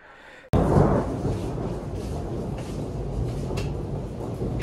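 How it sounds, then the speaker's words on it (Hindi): Thunder rumbles heavily outdoors in the hills on the road toward Narkanda, Himachal Pradesh, a loud sudden crack rolling into a long, sustained low roar. "Yes guys, you heard it right. It is thundering."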